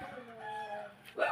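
Chickens cluck and squawk nearby in a short burst, with a louder, sharper call rising at the end.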